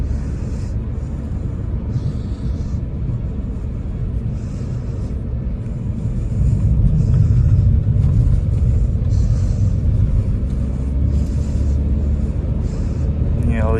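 A 2015 Audi A4 B8 with a 2.0 TDI diesel engine drives along steadily with a low engine rumble and road noise, smooth and even throughout, with no talking.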